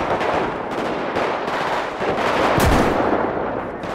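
Shotgun and machine-gun fire in GTA V zombie gameplay, a rapid loud barrage of shots with a heavier blast near the end, with no talking over it.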